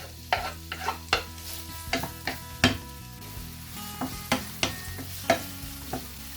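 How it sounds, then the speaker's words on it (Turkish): Onions fry in olive oil in a pan, with a steady sizzle under repeated sharp scrapes and taps of a utensil stirring against the pan. "Tavamıza birazcık zeytinyağı ekledim. Zeytinyağı ekleyerek soğanlarla başlıyorum."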